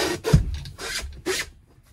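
Scraping and rasping from a spare wheel being worked off its carrier under a Swift Fairway Platinum 2022 caravan, three close rough bursts with a short thud early on and no talk.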